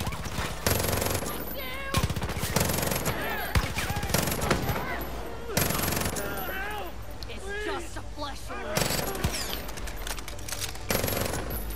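Rapid bursts of automatic gunfire and shots in the Far Cry 5 video game, repeated loud volleys over about twelve seconds, with voices shouting and talking between and under the firing.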